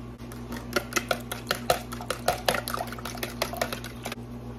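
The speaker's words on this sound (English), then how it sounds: "I'm going to go ahead and take 8 eggs and whisk them up in a bowl" Eight eggs whisked with milk in a bowl, a quick irregular run of metal clinks and taps against the bowl with light liquid sloshing, close and fairly quiet, with no talking.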